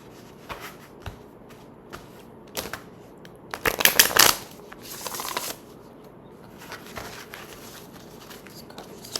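Tarot cards being shuffled at close range, soft scattered riffles and taps that swell into a louder burst of shuffling partway through, then settle back to faint handling, with no one speaking.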